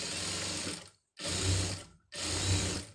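Sewing machine stitching cloth in three close, steady mechanical bursts of rapid needle clatter, separated by brief silent pauses.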